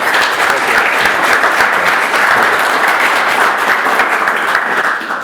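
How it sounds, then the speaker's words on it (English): Sustained, dense audience applause for a conference panel at a transmission industry meeting, steady and loud throughout, a large room of many hands clapping together without pause, tapering slightly at the very end. "perhaps we could give them a round of applause"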